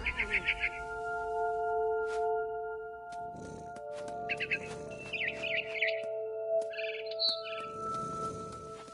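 A barn swallow chirps in the video game What Remains of Edith Finch, giving quick high twittering bursts that return several times over a sustained tonal music bed, with gaps between the calls.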